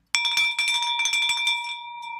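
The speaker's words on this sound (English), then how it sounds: "ring that victory bell and bring some energy" A victory bell rung in an office to celebrate a closed real estate deal, struck rapidly in a bright ringing flurry, close and loud, then left to sustain and fade at the end.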